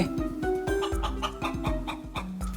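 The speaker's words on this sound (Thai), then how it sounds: "ปกติมันต้องขันตั้งแต่ตีสี่ตีห้าป่ะ มาขันอะไรตอนนี้" Rooster and chickens crowing and clucking close by in a busy run, repeated bursts over layered squawks and fowl chatter.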